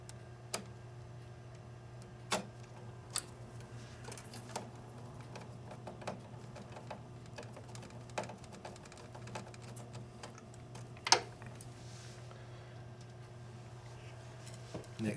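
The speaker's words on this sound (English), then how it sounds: "Alright, so now I can start replacing those screws." Screws are driven back into the cap assembly of a DTG Viper printer with a screwdriver: sparse, faint clicks and ticks scattered over a steady low background hum.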